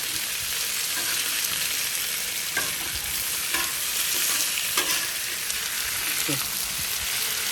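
New York strip steaks sizzle on a Blackstone griddle with a touch of oil. A loud, steady, close hiss carries throughout, with a few faint scrapes.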